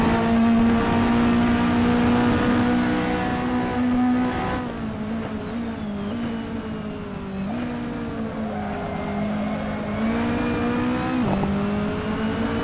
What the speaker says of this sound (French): Je vous laisse un petit peu profiter du son de la voiture